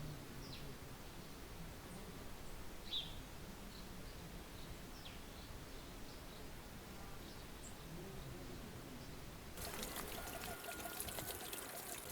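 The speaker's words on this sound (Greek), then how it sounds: "Στο ποτάμι υπάρχει ο παλιός νερόμυλος" River water flows past an old watermill in Panourgias, Fokida, Greece, a soft continuous rushing with faint bird chirps, and a louder burst of noise near the end.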